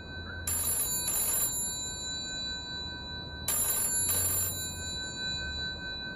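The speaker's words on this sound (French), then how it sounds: "le téléphone sonna dans l'appartement des deux agents" A telephone rings in an apartment: two pairs of electronic double-trill rings about three seconds apart, clear over a quiet room tone with a faint low hum.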